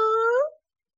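A single drawn-out, tonal wail from a small cat in a children's story, rising slightly then fading out after half a second, close and alone.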